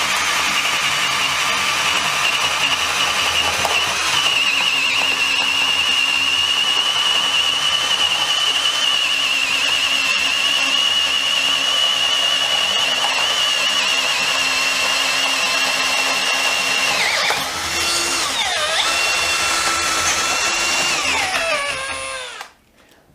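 A Milwaukee M12 CPD 12V brushless cordless drill runs steadily in first speed for about 17 seconds with a sustained whine, then drops and shifts pitch several times as it bogs under load, and cuts off near the end.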